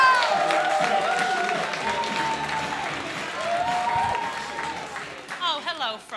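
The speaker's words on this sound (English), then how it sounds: "sound the applause! Sound the cheer" An audience applauds and cheers at a comedy club open-mic contest, a sustained burst of clapping and whoops that gradually fades as a voice begins talking near the end.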